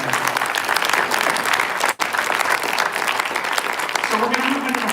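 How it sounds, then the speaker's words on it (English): An audience at a Muslim and Jewish interfaith panel event gives steady, loud applause for the panelists, with a brief dip partway through and a voice emerging faintly at the end. "Please, a round of applause for our amazing panelists."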